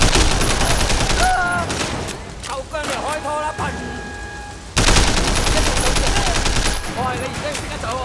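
Loud, rapid bursts of gunfire and booming shots in the Sleeping Dogs action game crackle almost without pause, easing briefly mid-way before surging again, with a voice faintly under the shooting.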